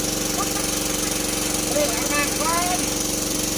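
An engine-driven water pump draining a fish pond, chugging with a steady rapid knock, close and constant, while someone talks over it.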